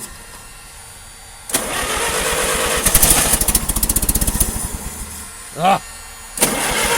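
An old carbureted engine cranks and fires in winter cold, its rapid, loud churning building to a running sputter before cutting out, then catching again briefly; a person grunts once.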